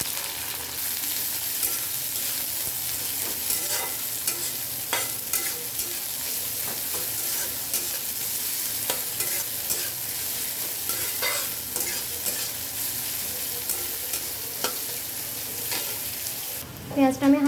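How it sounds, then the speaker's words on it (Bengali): Chopped onion and green chilli fry in a pan, with a continuous close sizzle and repeated scraping and tapping of a spatula stirring, steady throughout and with no voices. "পেঁয়াজটা আমি হালকা ভেজে নিয়েছি"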